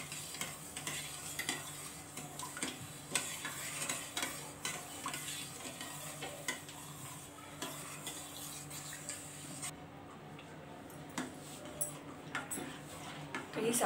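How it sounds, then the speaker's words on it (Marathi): Sugar is stirred in a pan over a gas flame, a spoon scraping and ticking against the metal in an irregular rhythm with a faint background sizzle, quiet and close. "साखर ही अशी ढवळत राहूयात आपण।"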